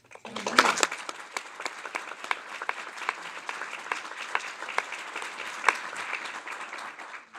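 Applause at a regular Teachers' Retirement Board meeting thanks a departing board member: a room of people clapping steadily for several seconds after a sharp start, with a faint voice under it.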